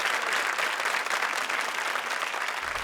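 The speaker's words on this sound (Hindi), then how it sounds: "जोरदार तालियां" A studio audience at the Comedy Circus Kaante Ki Takkar comedy show claps in a loud, dense, sustained wash of applause that continues steadily throughout.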